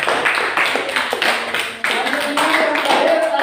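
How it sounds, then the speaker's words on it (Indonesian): Classroom applause from a group of students, a dense patter of many hands clapping at close range that carries on steadily and swells slightly toward the end. "Aplaus untuk Maya."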